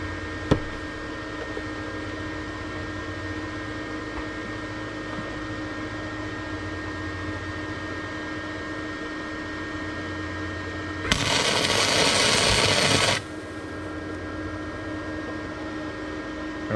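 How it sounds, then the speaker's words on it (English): A brief harsh burst of welding crackle lasting about two seconds rings out as a tack weld is struck on a DIY MaxTrax mount, standing above a steady workshop hum and fan drone. "I'm gonna tack everything together and then I'll get it from there."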